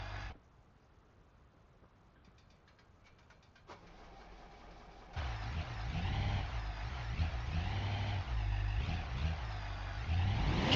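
Car engine in the BeamNG driving game, quiet at first, then from about five seconds a loud, steady drone that rises and falls as the car is revved while driving, with no talk.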